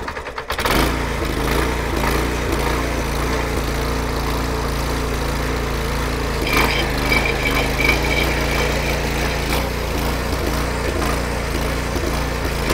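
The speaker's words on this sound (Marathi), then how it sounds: "आधी सरांनी ऑन ऑफ स्विच ऑन केला, चोक दिला, चोक दिल्याच्या नंतर चालू झाली" A Dfarm mini power weeder with a rotavator starts with a brief rattle, then its small engine settles into a steady, loud, close putter with a low drone and a little mechanical clatter.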